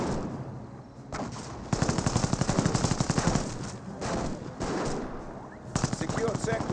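Machine-gun fire in bursts hits an observation post in Company of Heroes, rapid rattling volleys with pauses between them, alongside wartime battle ambience.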